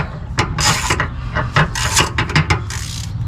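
Wrench removing an exhaust manifold bolt while installing headers on a Magnum, loud rapid ratchet clicking in several bursts with short gaps, very close and without speech.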